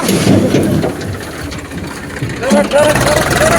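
A vehicle engine runs on a farm road, its loud steady rumble continuous beneath people talking nearby.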